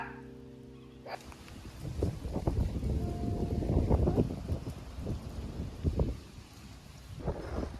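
Rain starting to fall after a strong storm, a soft steady patter with gusty, rumbling bursts rising and falling, fairly faint and distant, with no voices.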